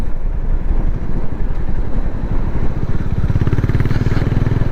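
A Harley-Davidson X440 motorcycle rumbles through its exhaust at speed on the road, a loud, continuous engine note with wind buffeting and a rising pulsing throb toward the end.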